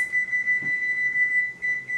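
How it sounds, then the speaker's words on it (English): An electronic kitchen timer sounds a steady high-pitched tone with slight pulsing, fairly close and clear against a quiet kitchen, with no one speaking. "We're going to go ahead and set the timer for 10 minutes"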